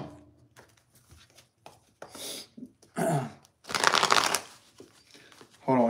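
Tarot cards are shuffled by hand in several bursts of crisp riffling and flapping, close and fairly loud, separated by quiet handling noises.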